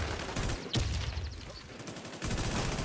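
Video game shooter gunfire, heard as rapid rattling automatic bursts with a sharp louder shot near the start, a brief lull, then more continuous firing at moderate volume.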